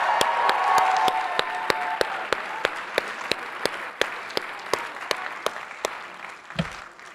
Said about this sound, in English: Let's have a round of applause for Dean Delva for calling all those names